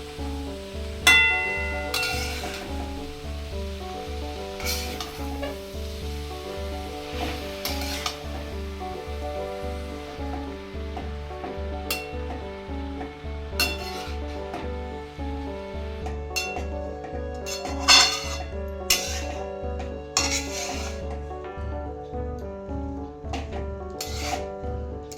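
Grated carrot for gajar halwa is stirred and sautéed in a pan over a high flame, giving a steady low sizzle with repeated scraping strokes and occasional utensil clinks, close and continuous with no talking.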